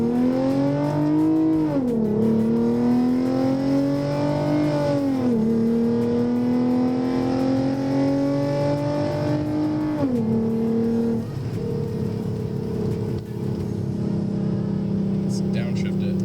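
A modified Lexus IS350 accelerating hard in sport mode, its engine note climbing steadily through the gears with brief dips at each shift, loud and close from inside the cabin.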